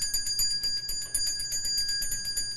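A small bell being touched repeatedly, producing a rapid series of bright ringing strikes with sustained high tones, close and fairly loud, without speech.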